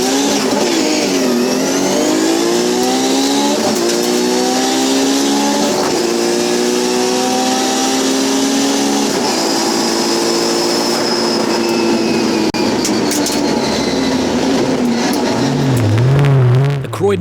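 A GTR race car accelerates hard on an Australasian record drag run, its engine loud and close, rising through repeated revving sweeps and gear changes for the whole stretch.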